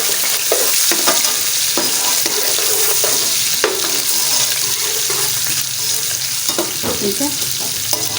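Garlic and ginger paste frying in oil for chicken pulao, a loud continuous sizzle with regular spoon stirring and scraping strokes close up, plus a short spoken phrase.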